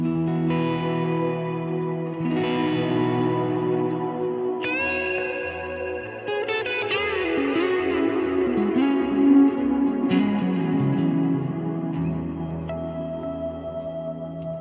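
Electric guitar played through a Keeley Caverns delay and reverb pedal, with the reverb set a little low so the delay stands out: sustained chords and bright picked notes trailing echoing repeats in a wash of ambience, steady and fairly loud with no talking.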